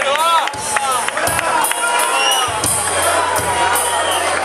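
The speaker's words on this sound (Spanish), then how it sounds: "Un aplauso para Noah, el técnico de sonido" A live festival concert crowd cheers, whoops and claps for the sound technician, with shouting voices and bursts of noise over a low musical drone, near and loud throughout.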